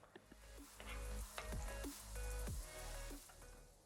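Finely chopped ginger fries in hot oil in a pan, a soft close sizzle with occasional stirring scrapes and clinks, quiet and without talk.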